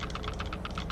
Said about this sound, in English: Yes, I am clicking on the keyboard at the moment right beside the microphone.